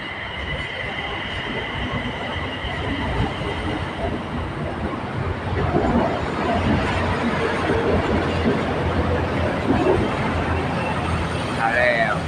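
A BTS Skytrain Silom Line train rumbles steadily past on the elevated track into a curve, with rolling wheel noise and a faint squeal, with voices talking over it.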